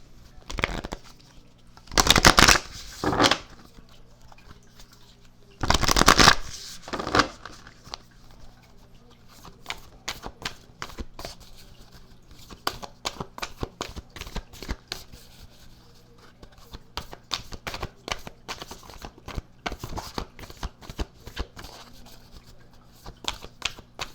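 A Moonology oracle card deck being shuffled, two loud riffling bursts early on, then a long run of quick, light flicking and tapping of cards, close and alone.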